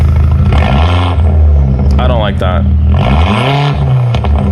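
A car with a harsh, diesel-like exhaust note revving at low rpm, rising and falling in a couple of throaty swells close to the microphone, with a person talking over it.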